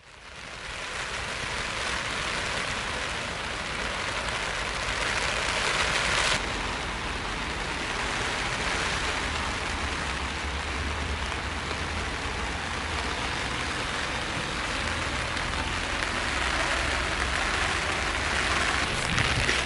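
Steady, heavy rain hisses continuously throughout, a dense wash of sound with no pauses and no voices.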